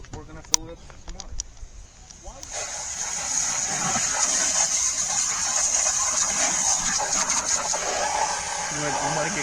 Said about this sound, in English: we're gonna fill it up with some water